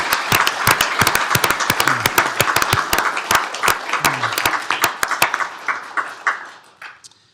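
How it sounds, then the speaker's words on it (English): Audience at a county commissioners court meeting applauding Deputy Garcia of the Sheriff's Office for 25 years of service, a lively round of clapping that thins into scattered individual claps before fading out. "let's give it up for Deputy Garcia"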